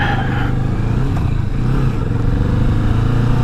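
A 2019 Kawasaki Vulcan S ABS with a 649 cc engine runs under throttle, its loud, steady drone and rumble continuing throughout with wind and road noise.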